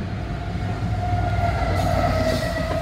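CSX freight train rolling past a road crossing in Churchville, New York, a steady loud rumble of wheels on rail with a constant tonal squeal, close and continuous throughout.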